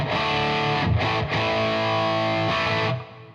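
A thick, distorted electric guitar through a 4x12 cabinet plays sustained chords with a couple of brief breaks, full-bodied and loud, fading out at the end.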